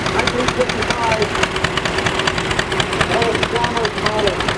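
A 1955 Allis-Chalmers model CA tractor engine running at a tractor parade in Arizona, a steady pulsing chug heard fairly close under someone talking.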